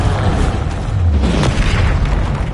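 A Confringo fire spell blasts in the Hogwarts Legacy video game, a loud, sustained explosive roar with deep booming rumble and a sharper crack near the middle, filling the whole moment with no talk.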